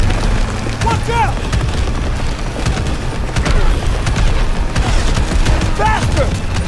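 In a Call of Duty WW2 mission with the French Resistance, enemy fire hits the player's vehicle during a chase: loud booms and bursts of gunfire over a steady engine roar, with excited voices shouting throughout.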